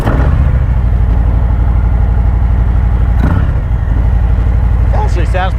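A 2018 Harley-Davidson Fatboy motorcycle with stock pipes idles loud and close, a steady low rumbling thump that swells briefly midway, with a voice briefly heard near the end.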